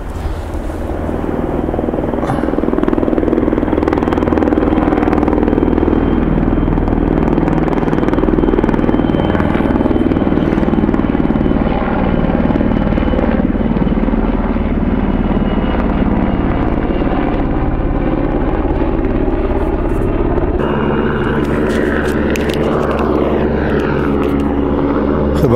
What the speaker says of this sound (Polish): Znowu helikopter.